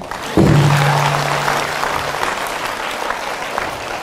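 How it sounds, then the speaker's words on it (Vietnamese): A crowd attending a Buddhist dharma talk at a monastery in Canada breaks into applause, a sudden, loud and sustained burst of many hands clapping that carries on evenly to the end, with a brief low tone near its start. "Vỗ tay"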